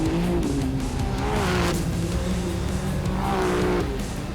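UTV side-by-side race vehicles racing: engines roaring and revving continuously at close range, with tire scrubbing and squeal rising and falling as the machines pass.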